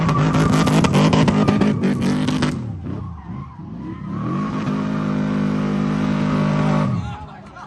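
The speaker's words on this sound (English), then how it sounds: "check out these donuts" A car does donuts after a grip autocross event, its engine revving hard and loud with tire squeal and skidding. A brief dip in the revs comes partway through before the engine surges again, then fades.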